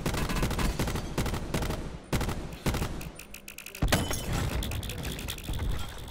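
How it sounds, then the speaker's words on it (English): Rapid automatic gunfire bursts ring out in the video game Blackout, loud and close, as a window is shot out, with a sharp shattering crack partway through and more firing after it. "I shot the window first with my first two bursts"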